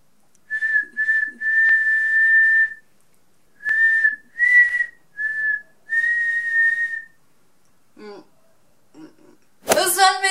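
A person whistles a series of steady, tonal notes in short bursts with pauses between, close and clear, followed by a brief rustle and a sharp noise at the end.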